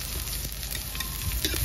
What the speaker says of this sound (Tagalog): Patatato nga sibuyas Bombay.